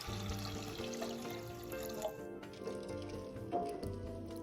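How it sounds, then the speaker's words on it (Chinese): Two litres of clean water poured into a large pot of red beans: a steady close splashing and gurgling pour lasting several seconds, with no talking. "再加入清水2公升"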